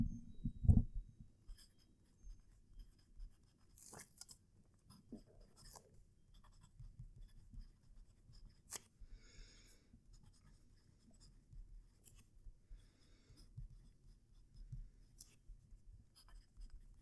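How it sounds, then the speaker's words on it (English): Jinhao fountain pen nib scratching across paper at close range, faint soft strokes and taps with small pauses between them, no talking. "So let's do our final writing sample."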